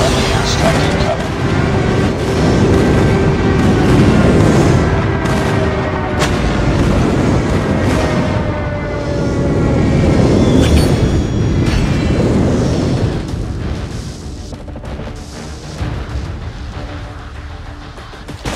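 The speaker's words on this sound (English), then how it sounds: "Friendly airstrike incoming." Airstrike explosions from Call of Duty Mobile rumble in a dense, continuous roar of blasts and booms that swells and fades, with game voice lines heard over the din.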